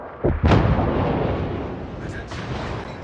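Warship secondary batteries on the battleship Tirpitz firing at an enemy ship in the naval game World of Warships, a heavy booming burst of gunfire near the start followed by a sustained rumbling roar with fainter distant reports.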